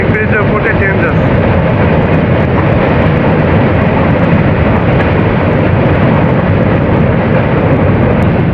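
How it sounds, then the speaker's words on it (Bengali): A train crossing the Hardinge Bridge over the Padma River at Paksey, a loud, steady rumbling roar of wheels and carriages on the steel span that stays constant throughout, with noisy background and no clear speech. "হার্ডিং ব্রিজের উপরে ট্রেন যাচ্ছে।"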